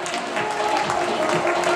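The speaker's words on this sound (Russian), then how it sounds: "Зрители поддерживают аплодисментами наших участников." An audience applauds at a belly dance championship award ceremony in Yalta, Ukraine, with steady, dense clapping that fills the short moment over a faint tonal background.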